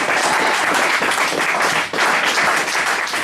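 A church congregation claps and applauds together in a dense, steady wash of sound, loud and close, with a brief dip partway through before the clapping swells again.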